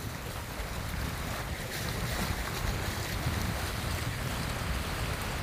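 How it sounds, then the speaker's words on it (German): Strong wind and choppy waves on Lake Annecy in the Alps, a steady, loud broadband roar with microphone buffeting and no break over several seconds. "Und ein ganz schöner Wellengang, da ist ja ein ganz schöner Wind"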